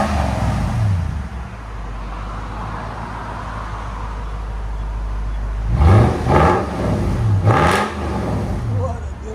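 1996 Lexus LS 400 4.0L V8 with true dual exhaust and valved mufflers opened, a deep idle rumble rising into several loud revs near the end, close by, with someone talking over it.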